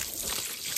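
Water trickling and dribbling from a burst water pipe out in a pine forest, a steady close splashing flow with no pauses.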